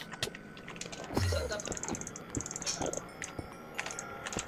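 A computer keyboard typed on in rapid, irregular bursts of sharp clicks, close and fairly quiet, with some talking mixed in.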